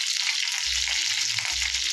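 Curry leaves and dried red chillies sizzle in hot oil for a tempering, a steady close crackling hiss with a couple of low stirring thuds beneath it.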